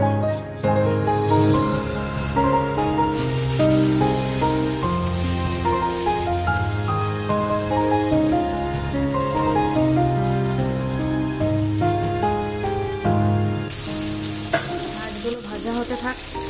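Tangra fish frying in a generous amount of hot oil in a wok, a steady broadband sizzle running beneath louder melodic background music for the whole stretch.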